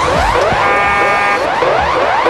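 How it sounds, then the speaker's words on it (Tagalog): Emergency buzzer on a live Filipino noontime game show, a loud warbling electronic tone with rising sweeps, sounding continuously for about two seconds over studio noise. "emergency buzzer"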